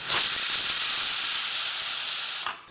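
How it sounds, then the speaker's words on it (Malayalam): A pressure cooker steaming cauliflower masala gravy releases steam in a loud, steady, high hiss lasting over two seconds before cutting off abruptly. "ഒരു വിസിൽ വന്നിട്ടുണ്ട്."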